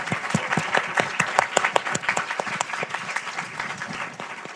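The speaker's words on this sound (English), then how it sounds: "maybe we can give everybody a big round of applause." Audience at a girls' education research and policy symposium breaks into a big round of applause, dense steady clapping that stays loud and close before easing off at the end.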